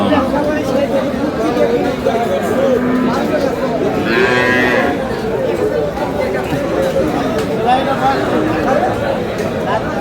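A cow gives a drawn-out moo amid the constant chatter of a busy crowd at an outdoor livestock market in Aftabganj, Dinajpur, where dairy cows and calves are sold.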